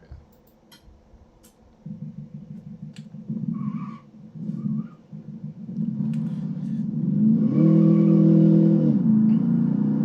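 A Fungo van's engine fitted with an added muffler, driven through a town industrial area in a video game, idles low then revs and accelerates into a steady, loud drone, with faint ticking over the rumble.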